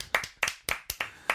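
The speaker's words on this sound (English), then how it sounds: "Let's clap for it." About five sharp hand claps land in a quick, even rhythm, close and fairly quiet, with no talking, as a few people clap for a shirt.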